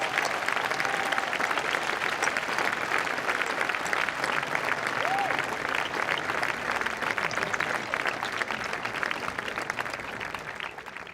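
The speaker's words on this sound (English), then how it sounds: "give them a big round of applause" Sustained applause from an audience at a photography award ceremony in Arles fills the hall, dense and steady throughout before easing slightly at the end.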